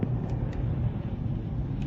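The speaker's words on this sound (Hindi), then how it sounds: "चेक करो ट्रैफिक कितनी है।" Heavy road traffic in Jeddah at about half past ten, jammed near a railway track: a steady low engine rumble and hum of vehicles with a few faint high tones, continuous throughout and without talk.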